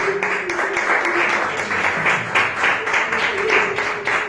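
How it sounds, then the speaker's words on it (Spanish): A church congregation claps in a lively, uneven rhythm that swells and dips. Voices and a sustained tone blend in beneath the clapping. "Un aplauso a Dios, hermanos."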